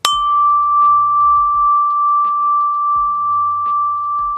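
A single clear doorbell chime tone rings out and sustains evenly, steady and unchanging, with a few soft low knocks and thumps underneath.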